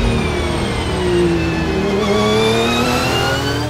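A Scribante Racing Porsche race car revs and accelerates loudly and up close, its engine note climbing steadily in pitch through a continuous, strong roar.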